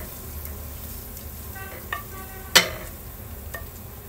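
Shrimp sautéing in a pan with a spoonful of coriander, a steady close sizzle with a few stirring scrapes and one sharp clink of a utensil against the pan.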